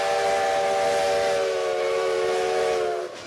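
A steam train sounds its whistle in one long, loud, sustained blast, with a steady hiss and rumble underneath that fades at the end.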